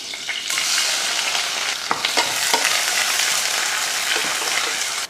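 Sliced big onion sizzles in hot oil with mustard seeds, urad dal, fennel and curry leaves for tomato rice, a loud steady frying hiss broken by a few sharp stirring scrapes and pops.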